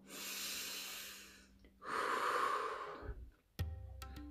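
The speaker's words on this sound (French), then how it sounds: "Vous avez vu comme j'ai bâillé" A person's long, drawn-out yawn heard close up, with a breathy exhale that swells and then fades, followed by a brief gasp-like sound at the end.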